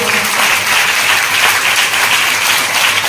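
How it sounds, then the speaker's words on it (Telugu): Women in a church congregation clap together in a dense, steady burst of applause that fills the room, loud and sustained for a few seconds without a break. "చప్పట్లు కొట్టండి ఆడవాళ్ళు"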